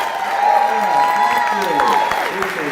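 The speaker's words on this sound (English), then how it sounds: "Give him a big round of applause, Dr. Horst." An audience applauds a doctor at a talk on Kangen water, a short spell of clapping mixed with crowd noise and voices speaking over it at close range.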